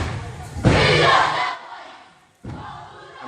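Some 1,200 to 1,400 schoolchildren perform a Maori haka together at a cultural festival, a massed roar of chanting voices rising sharply, then a pause and a second loud shouted burst, all from a distance.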